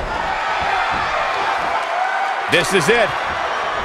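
A Tokyo arena crowd roars in a wrestling video game, a steady wash of cheering and shouting with a few rising whoops near the end, while a commentator's voice speaks over it.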